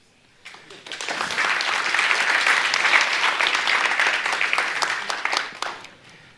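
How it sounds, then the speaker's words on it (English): A conference audience applauding after a talk, swelling quickly and holding steady for several seconds before fading out. "So this is where you clap and then ask questions."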